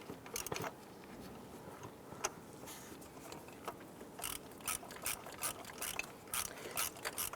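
A hand ratchet clicks as EGR valve bolts are tightened on a 2005-2010 Chrysler 300, giving rapid close-up pawl clicks in uneven bursts over a low hum, growing denser toward the end.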